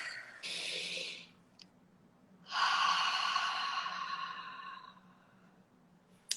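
Deep breathing close to the microphone, a short inhale followed after a pause by a longer, airy exhale, soft and alone.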